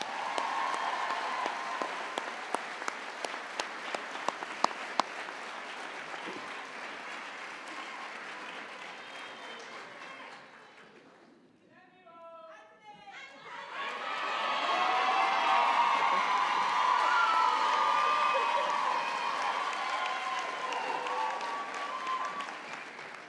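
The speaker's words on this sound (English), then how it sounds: "I'd now like to put your hands together again for our staff" Graduation ceremony audience applauds and cheers for the staff, a dense steady wash of clapping with shouts, fading briefly mid-way before swelling again louder and fuller.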